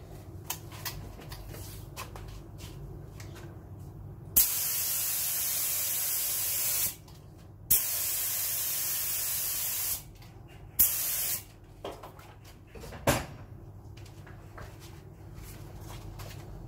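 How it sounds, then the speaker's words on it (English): Several bursts of spray gun hissing as activator is sprayed onto hydro-dip film, each lasting a few seconds, separated by short pauses, close and loud over a low background hum. "I'm about to activate the film with the activator and a spray gun."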